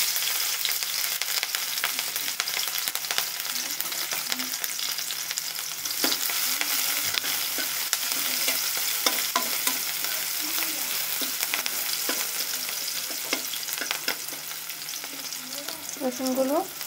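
Garlic and green chilies sizzle steadily in hot oil, a dense, close crackle of frying that stays even throughout, with scattered brighter pops and no talking.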